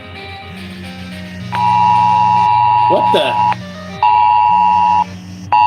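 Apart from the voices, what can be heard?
emergency alert tone on a mobile phone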